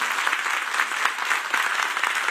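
A studio audience applauds a singer, a dense, even round of clapping from many hands, sustained and fairly close throughout.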